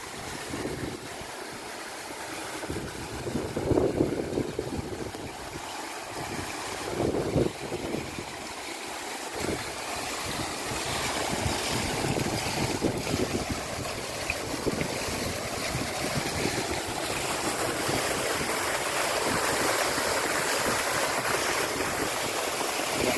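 Water gushes continuously from a Naga serpent fountain into a pond at a Nong Khai shrine, a broad steady rushing splash with outdoor ambience, growing fuller and louder over time.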